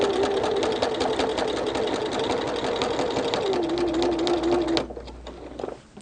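Sewing machine running steadily and close while machine quilting a Christmas tree quilt, a continuous whirring hum with a slight drop in pitch, then stopping abruptly, followed by faint handling sounds.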